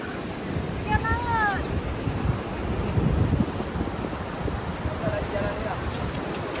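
Surf rolls and washes along the seashore under gusty wind noise, with a couple of brief high voiced sounds rising over it.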